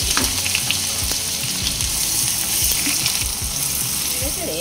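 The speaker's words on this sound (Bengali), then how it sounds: "পেঁয়াজ হালকা সোনালি রং ধরে আসা পর্যন্ত ভেজে নিয়েছি" Finely chopped onions sizzling and frying in a pan for a chicken curry, a steady crackling hiss with occasional stirring scrapes throughout.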